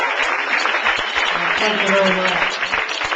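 Comedy club audience in New York clapping for a comic taking the stage, a dense, fairly loud burst of applause with a voice briefly speaking over it.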